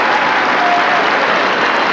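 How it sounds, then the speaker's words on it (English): A home crowd applauds and cheers steadily after a Leicester rugby try against Gloucester, a dense, continuous wash of clapping that stays loud throughout with no break. "That's given the home crowd something to cheer about in the dying moments of the game."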